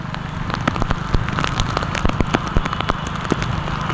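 Heavy monsoon rain pours down in Surat, pattering steadily on surfaces with sharp individual drops ticking and crackling close by. The downpour is continuous and fairly loud, with no voices.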